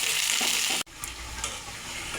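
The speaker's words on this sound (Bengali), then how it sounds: "পেঁয়াজটা লাল লাল করে ভাজা হয়ে গেছে।" Chopped onions fry in soybean oil with bay leaf, dried chili and five-spice, giving a loud continuous close sizzle that cuts off sharply for an instant, then resumes with softer crackling and a few spikes.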